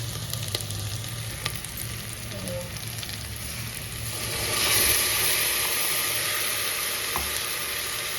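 Sliced onions browned in a pan with ginger garlic paste added, frying in oil with a steady loud sizzle and a low background hum, the sizzle swelling briefly midway as the paste hits the hot oil.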